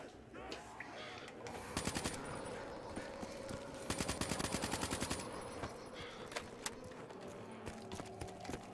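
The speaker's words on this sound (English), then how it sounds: "my gun will carry on shooting even though I've let go of the trigger" Automatic gunfire in Call of Duty: Black Ops 3 custom zombies mode sounds in rapid bursts of sharp shots, with a long continuous burst mid-way, over a busy game soundscape.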